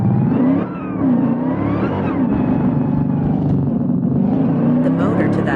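A truck engine revs loudly and steadily close by, its rough low drone rising and falling throughout while people talk over it.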